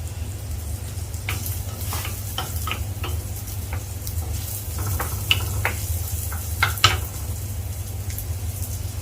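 Green chillies dropped into onions softening in a pan for Kerala jackfruit seed theeyal, with steady close sizzling and several sharp spatula scrapes and taps as they are stirred, no talking.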